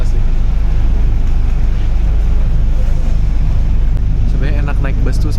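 Low, steady engine rumble and road drone inside a moving city bus in Buenos Aires, constant throughout, with a voice speaking briefly near the end.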